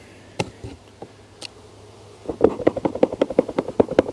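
Honeybees buzz inside an opened hive during a colony split, a few isolated clicks and taps at first, then a dense, close, pulsing buzz that swells and throbs rhythmically, with no voices.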